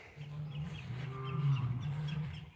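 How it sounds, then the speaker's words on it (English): Low, steady clucking and murmuring from a few chickens close by, a continuous soft chorus with no talking. "I got, I got some chickens."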